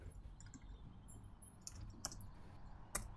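A few sparse, sharp clicks like computer keyboard keys being pressed, including the Escape key, spaced irregularly over a low background hum, with no talking.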